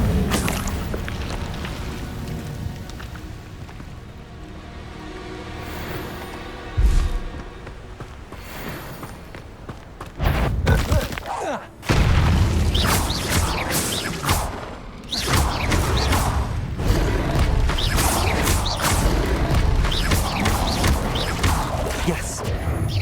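Incendio fire spells cast again and again in Hogwarts Legacy, heard as repeated whooshing bursts and crashing impacts over a steady game-music bed, loud and close, with a voice speaking over them.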